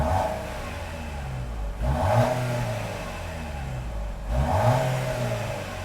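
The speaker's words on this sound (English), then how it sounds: "I'll give you a little time to check out the gauge cluster animation before I show off the exhaust note" A 2022 Lexus NX 350 engine blips twice, each rev a short swelling rise in exhaust note before settling back to a steady idle rumble, heard close with no talking.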